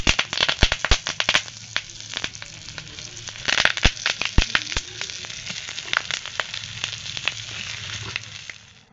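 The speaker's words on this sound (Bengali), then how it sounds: "একইভাবে বাকি পাতুরিগুলো ভেজে নেব" Cauliflower paturi wrapped in banana leaf fries in hot oil, a dense, close sizzle broken by frequent sharp pops and crackles that come in irregular bursts, with no voices.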